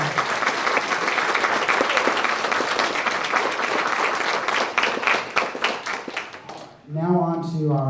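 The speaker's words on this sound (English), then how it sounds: "Give them a round of applause." An audience at a school honors program evening applauds a student music performance, sustained dense clapping that fills most of the span, then fades as a speaker begins talking.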